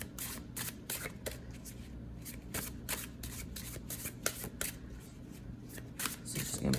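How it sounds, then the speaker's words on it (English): A deck of tarot cards is riffled and shuffled again and again, giving rapid crisp flutters and soft slaps in a close, quiet room, with no talking. "these cards shuffle so amazingly"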